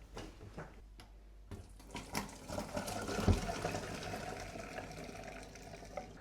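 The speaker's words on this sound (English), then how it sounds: "So, strain your pasta water." Pasta water is poured out and strained in a kitchen sink. It is a continuous splashing, trickling stream that starts softly and grows fuller, with a few clattering knocks.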